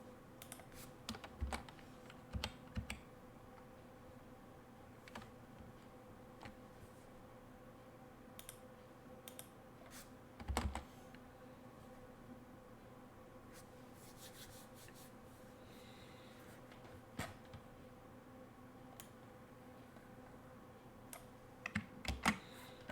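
A computer keyboard is tapped in faint, scattered clicks and short bursts of keystrokes over a quiet room hum, with a few louder clacks.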